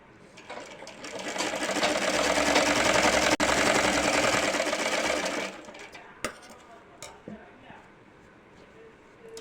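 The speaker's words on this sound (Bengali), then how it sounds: "আগে পায়জামাটা সেলাই করে নিচ্ছি" A sewing machine stitching a child's pyjama made from leftover fabric scraps, running loud and steady for about five seconds, then stopping, followed by a few clicks and handling knocks.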